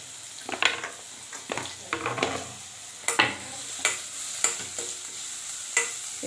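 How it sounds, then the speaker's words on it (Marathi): Carrots and capsicum being stir-fried in a pan for triple rice, a spatula scraping and stirring in repeated bursts over a steady close sizzle, with no talking. "हे चांगलं परतून घ्यायचं।"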